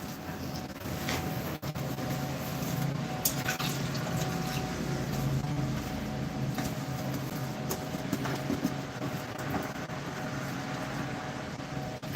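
A dough mixer blends sourdough starter into water with a continuous, even whirring and sloshing that holds steady throughout.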